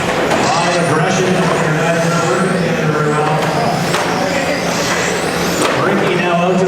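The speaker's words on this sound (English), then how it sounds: "White black car just screaming down the straightaway there now." Small motors of Tamiya TRF419 RC cars whine and buzz continuously as they race past, pitches rising and falling, with a commentator talking over the noise.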